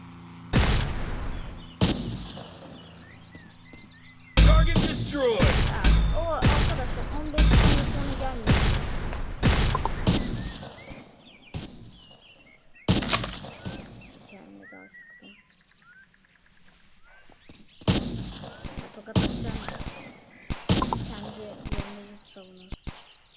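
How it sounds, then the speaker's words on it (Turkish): Rapid gunfire crackles through a firefight in the video game Dude Theft Wars, dense bursts of shots coming in clusters with short gaps, loud and close, under occasional talk. "çatışma var. Tam buraya çatış oluyor."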